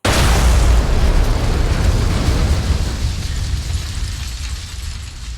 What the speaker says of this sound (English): the bomb went off.